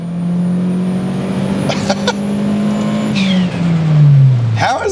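A Toyota Starlet Glanza V 1.3 with a four-speed automatic kicks down into first, and its engine drone climbs and then drops as it pulls hard. Sharp bursts of excited voices sit over the engine.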